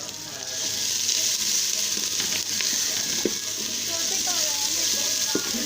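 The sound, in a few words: onions frying in a pan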